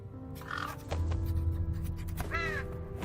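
Crow-like bird cawing in the horror game True Fear: Forsaken Souls, set in a creepy high school, with two clear, moderately loud caw bursts over a low ambient game drone.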